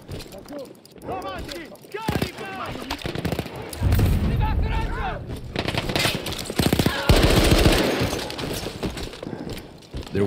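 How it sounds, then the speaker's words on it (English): Artillery shelling in the World War I video game Battlefield 1. Heavy booming impacts and rumbling blasts mix with rattling machine-gun fire and breaking debris throughout, under voices. "There was an artillery gun that was shelling us and Matteo's unit."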